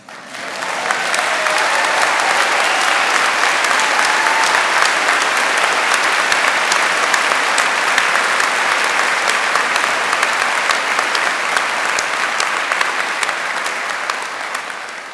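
Sustained applause from a large audience at a London degree ceremony, steady and dense from start to finish with no voices rising above it.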